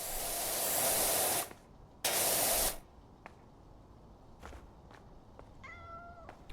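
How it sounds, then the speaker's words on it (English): A cat meows in PowerWash Simulator 2, a short tonal call near the end that follows two loud bursts of pressure-washer spray and a few faint clicks. "Did you not hear that meow, Joe?"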